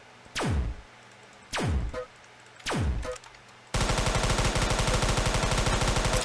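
Gunfire in the Roblox game 2 Player Battle Tycoon: three separate heavy booming shots with falling tails, then a rapid sustained burst of machine gun fire that runs to the end.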